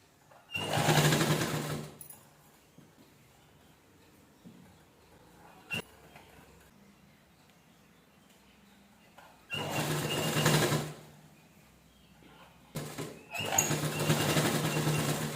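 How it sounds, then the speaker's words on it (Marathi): A sewing machine stitches a side seam on leftover blouse fabric scraps in short loud bursts, with quiet pauses between runs and a sharp click in the gap. "आता बघा हे साईडनं आपण शिलाई करून घेऊ व्यवस्थित"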